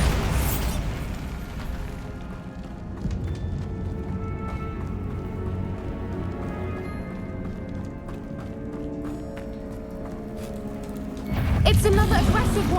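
Bombarda spell explosions in Hogwarts Legacy combat: a sharp burst opens the moment, then busy rumbling and crackling action, and a second loud, heavy blast erupts near the end.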